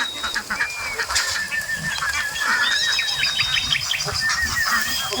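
A flock of ducks is herded into a net enclosure on a poultry farm, giving dense, overlapping honking quacks that carry on continuously and loudly at close range.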